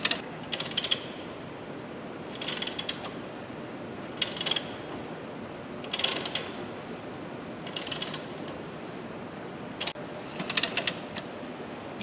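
A nut is tightened with a wrench to draw a wheel stud into the hub, a pry bar holding it, producing repeated short ratcheting clicks in bursts against a quiet background.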